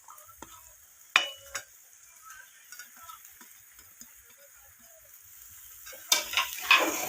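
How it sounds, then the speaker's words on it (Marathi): Fried paneer cubes and peas stirred in a pan at home, with scattered soft scrapes and clinks of the spoon against the pan, a few sharper knocks, and a burst of sizzling clatter near the end. "आता हे हलवून घ्यायचं।"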